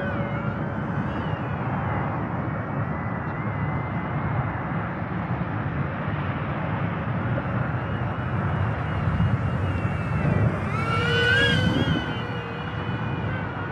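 A KFPLAN KF603 RC flying boat plane buzzes steadily overhead after taking off from water, its small electric motor droning continuously at moderate loudness with a brief rise in pitch near the end.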